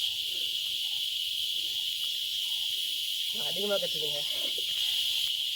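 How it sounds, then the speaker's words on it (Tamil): Loud, constant high-pitched droning of beetles in forest on a Parvathamalai trail fills the air throughout, with a person briefly talking partway through. "இந்த வண்டு பயங்கரமாக கத்திக்கிட்டே இருக்குது."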